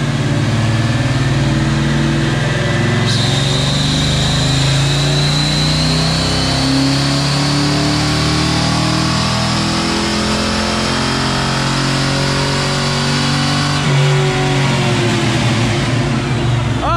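A car engine held at steady high revs on a dynamometer, fitted with a cheap electric turbo; a loud, sustained drone with a rising whine that drops off near the end.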